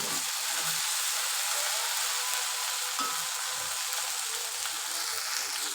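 Okra fries steadily in a pan over medium heat with a quiet, unbroken hiss and crackle and a few faint utensil clicks, with no voices.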